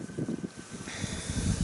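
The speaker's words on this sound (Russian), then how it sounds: "Ух, ветрище, хвощет." Strong wind buffets an outdoor winter fishing spot on the ice, a loud, continuous roar of gusty noise battering the microphone throughout, with no other clear sounds.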